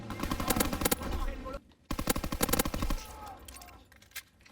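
Sustained bursts of rapid automatic gunfire in the multiplayer shooter Call of Duty WW2, loud and close, broken by a brief pause before a second long volley, then trailing off into sparser distant shots.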